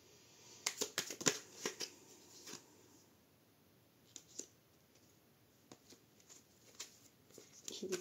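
Oracle cards are shuffled by hand in a flurry of crisp riffling slaps and clicks, then a sparser run of soft taps, close and quiet.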